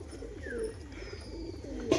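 A female Shakduma pigeon coos softly in a low rolling rhythm over a quiet background, with a brief faint chirp and a short bump near the end.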